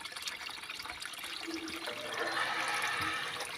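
Continuous water flows in an outdoor fish pond, a soft, steady trickling and splashing that swells slightly louder toward the end, with no talking.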